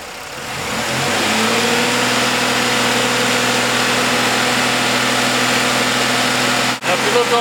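A car engine revs up and holds a steady, loud drone with sustained tonal hum, running continuously before a brief dip near the end; no talk over it.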